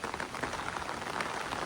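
Steady rain patters densely on a surface, likely an umbrella, along the Appalachian Trail, forming a close, continuous hiss with no speech.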